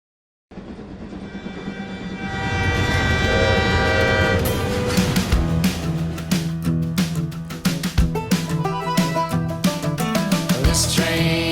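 A train horn sounds loudly and steadily for several seconds, with rhythmic rail clatter and clicking building up beneath it.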